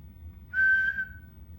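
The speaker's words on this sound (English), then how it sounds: "Then it came, a shrill blast from the whistle." A single shrill whistle blast, about half a second long, stands out clearly over a quiet, low background.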